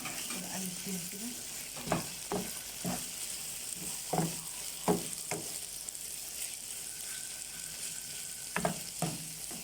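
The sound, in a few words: stirring frying peppers in a pan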